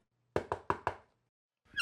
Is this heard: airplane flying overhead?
no